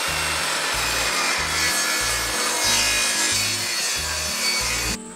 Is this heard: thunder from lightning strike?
no